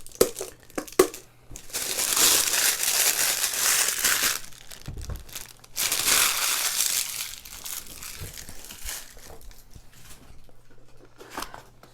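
Cardboard packaging of a Mage Knight expansion board game box is opened, with sustained crinkling, tearing and crushing of card and wrapping, loud at close range with brief pauses between bursts.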